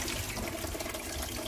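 Well water running steadily out of a single-stage bored-well water filter, a continuous broadband gush like a tap filling a sink, close and even throughout with no talking.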